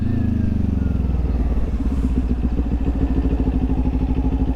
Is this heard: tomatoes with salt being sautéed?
no